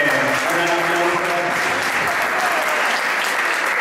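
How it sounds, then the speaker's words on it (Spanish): An audience at an education conference applauds a visiting physics professor, a steady dense wash of clapping that stays loud and even, with speech briefly heard at the start. "Así que, un aplauso."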